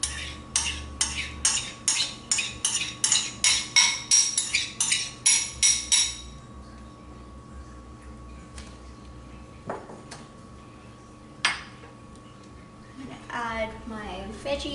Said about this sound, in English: Now I'm going to mix a bunch of ingredients together.